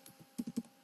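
Keys clack on a computer keyboard, a short quiet burst of about five taps, the last three louder and closer together, with no talking.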